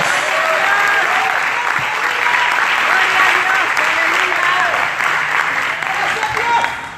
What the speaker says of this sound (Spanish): Dele palmas al Señor en esta noche.